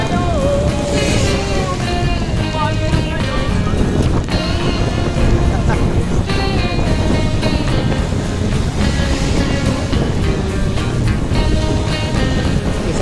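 Strong wind blasts against the microphone while cycling in the rain on the Laguna Loop near Tanay, a loud continuous rumbling roar with a faint voice buried under it.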